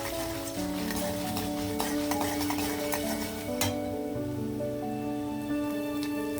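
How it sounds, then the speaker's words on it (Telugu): Tempering spices sizzle in hot oil for pulihora, a soft, continuous crackle with occasional stirring, heard beneath tonal background music. "ఇదిగోండి పోపులు వేగాయి"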